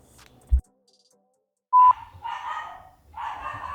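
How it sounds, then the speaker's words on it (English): A dog barks a few times in a house basement, sharp single barks followed by longer, rougher woofs, with a short electronic beep just before and a quiet pause between. "This time it's Winston, the dog. No doubt angry about someone or something"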